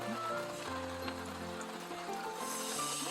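Rain falls steadily at a campsite, a continuous soft patter and hiss spread evenly through the moment, with faint tonal sounds underneath.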